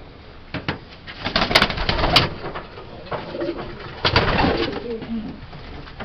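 Pigeons in a loft, cooing and rustling close by in repeated low bursts, with occasional wing flaps and handling noises.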